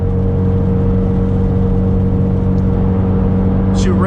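A Subaru WRX drives along on a rainy road, its engine holding a steady low drone with whirring tones and tyre hiss, close and continuous, with a brief rising sweep near the end.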